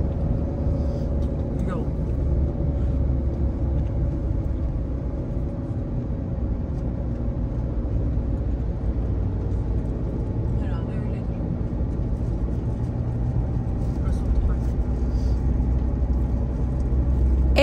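A car drives up the road toward Babadağ near Ölüdeniz, Fethiye, its low, steady interior rumble of engine and tyres filling the whole stretch, with faint voices now and then beneath.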